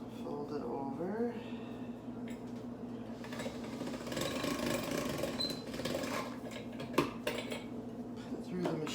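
Egg roll dough being fed through a hand-cranked rolling machine, with a continuous mechanical whirring and rattling of metal parts up close in a home kitchen, plus faint incidental voice.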